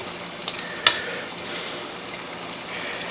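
Chicken sizzles steadily in a deep fryer, a constant bubbling hiss with one sharp pop early on and no voices.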